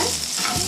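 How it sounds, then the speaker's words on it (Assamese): Paneer pieces fry in a pan, giving a brief, close, dense sizzle with a light stirring scrape and no voice. "পনীৰখিনি জাষ্ট হালকা ৰঙচুৱা হোৱাকৈ ভাজি ল'লোঁ।"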